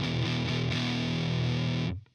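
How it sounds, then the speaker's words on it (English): Electric instrument tone run through a DOD Gonkulator ring modulator pedal with distortion added, a gritty, buzzy sustained note with a slight pitch shift before cutting off abruptly, loud and close with no talking. "in the Gonkulator, and we're just gonna add a little bit of distortion"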